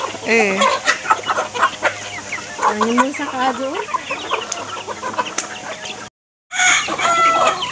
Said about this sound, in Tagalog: Lingawas mga manok oy.